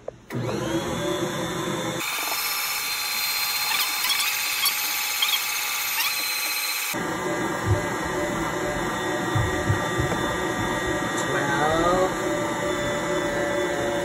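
Stand mixer motor kneading whole wheat bread dough, a steady close mechanical whir with hum that shifts in tone partway through as the load changes, running continuously with no talk.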